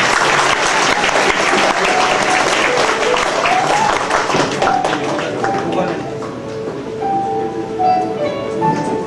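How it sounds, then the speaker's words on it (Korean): Hearty applause from the audience at a professor's retirement ceremony, loud and sustained, thinning out toward the end as a few voices and some music-like tones come through. "뜨거운 박수로 부탁드립니다"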